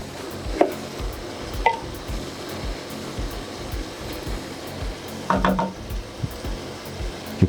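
Dry prawns being stirred into jambalaya rice with banga and coconut milk in a pot, giving soft scraping and a few light clinks of a utensil against the pot over a low background hiss.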